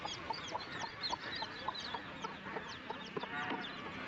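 A village hen clucks while her chicks peep around her, with repeated short calls from the flock, fairly close, and no talking.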